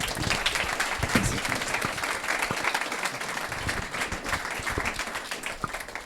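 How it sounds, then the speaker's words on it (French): An audience at a conference gives sustained, dense applause to welcome a speaker, many hands clapping steadily at close range throughout. "je vous demande un tonnerre d'applaudissements"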